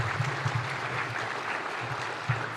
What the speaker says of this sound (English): Ladies and gentlemen, a round of applause to His Excellency,